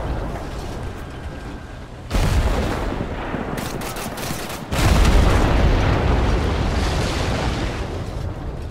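A tank main gun firing in the game Total Conflict Resistance, heard as two heavy booming blasts a few seconds apart, each followed by a loud, sustained rumble that fills the clip.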